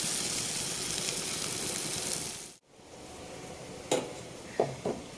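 Lentil fritters (dal bora) fry in hot oil with a loud, continuous sizzle that cuts off abruptly midway, followed by a quieter hiss and a few clinks of a utensil.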